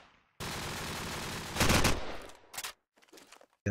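Automatic gunfire bursts in a Call of Duty 4 promod match on mp_strike, a sustained loud volley building to a heavier peak, then a few sharp separate shots before a final crack, with no talk.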